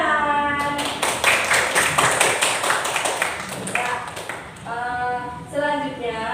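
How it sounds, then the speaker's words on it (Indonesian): A short burst of clapping, several hands clapping together for a few seconds, with a voice speaking before and after it. "Tepuk tangan."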